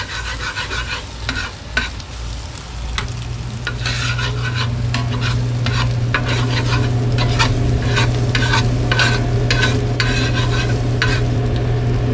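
Sliced jalapenos sizzle loudly in a hot pan while a utensil stirs them, with repeated scraping strokes over a constant frying hiss.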